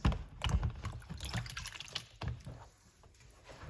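Pomegranates rinsed under running tap water, a steady soft splashing and trickle with light handling, fairly quiet and close.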